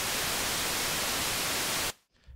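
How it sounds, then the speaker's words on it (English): Pure white noise from a Bitwig FM-4 synthesizer, a loud steady broadband hiss that cuts off abruptly near the end, leaving only a faint residual tail. "it's just going to be pure white noise at this point."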